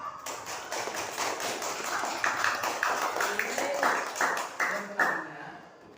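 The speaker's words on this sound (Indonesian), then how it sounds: "Bagus sekali. Tepuk tangan." Students in an Arabic language class give a round of steady, rhythmic applause with the teacher's voice faintly over it, fading out at the end.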